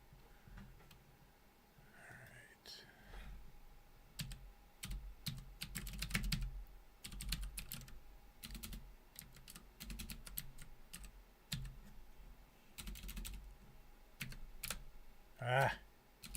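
Computer keyboard typing in bursts of quick clicks across most of the clip, at moderate level, with a short breathy snort or sigh near the end and no clear talk.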